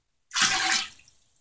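A one-cup measuring cup scoops standing water out of a clogged drain, giving a single brief splashy slosh that fades quickly, close and alone.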